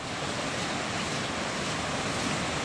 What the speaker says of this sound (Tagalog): Nagpungasi ang balod sa dagat